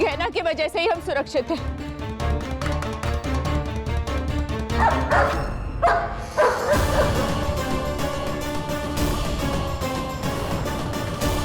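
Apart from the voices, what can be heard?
dog barking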